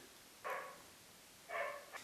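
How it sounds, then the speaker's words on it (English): A dog gives two short, moderately distant barks about a second apart in an otherwise quiet room. "my dog's barking."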